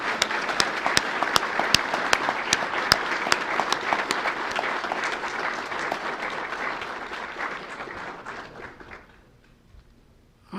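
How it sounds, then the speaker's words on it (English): An audience at a judicial investiture ceremony in a courtroom gives a full, dense round of applause that holds steady for about nine seconds, then quickly dies away to near silence. "let's give a round of applause to everybody who we mentioned"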